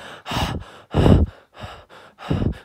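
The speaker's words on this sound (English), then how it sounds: "I hate that it has this heavy breathing." Heavy, rasping breaths from a horror movie, four loud rhythmic inhale-exhale bursts close up with short pauses between them, and no other sound.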